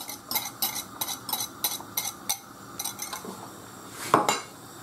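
Egg yolks and fish stock being stirred into a sauce over low heat, with a run of quick rhythmic metal clinks of a utensil against a pot and a louder knock near the end.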